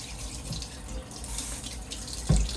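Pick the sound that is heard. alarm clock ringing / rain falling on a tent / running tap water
running tap water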